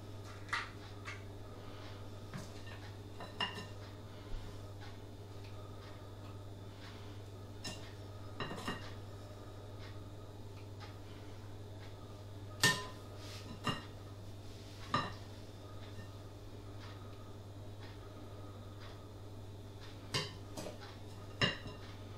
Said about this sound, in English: I'm going to distribute the mixture evenly through this using a spoon, 1 spoon in each one at a time.